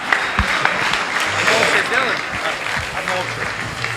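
Crowd applause rings out at a GAMA MMA 2 event for Sergo Aleksanyan after his win, a steady wash of clapping with cheering mixed in and an announcer's voice over it.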